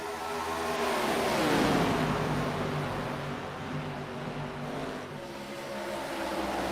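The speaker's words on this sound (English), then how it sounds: "All these cars fanning out, using every inch of this old Atlanta bumpy surface." Racing cars charge around the old, bumpy Atlanta track in a pack, a loud engine roar swelling as they pass close, then settling into a steady drone of several motors at speed.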